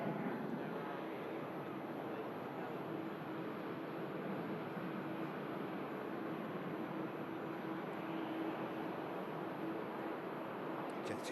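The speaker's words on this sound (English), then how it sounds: "Aer Lingus climbs out, double inbound." Aer Lingus airliner climbing out after takeoff from Manchester Airport, a steady broad jet roar at a distance, even and sustained throughout.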